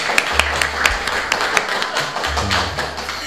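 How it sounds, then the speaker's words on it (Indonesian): At a ceremony in Blitar marking four years of the deputy mayor's leadership, quick hand claps ring out in a fairly regular, tapping rhythm over a low steady hum. "Tepuk tangan yang paling meriah."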